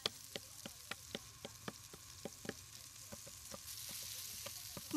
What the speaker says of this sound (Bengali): মাছটাও ঠিক করে ভাজতে দিলে না